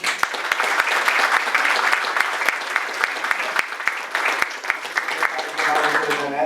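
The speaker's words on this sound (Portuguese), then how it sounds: "uma salva de palmas" An audience at a lawyers' event applauds, a full steady round of clapping lasting several seconds, moderately close, with speech over it.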